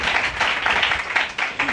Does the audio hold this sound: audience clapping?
yes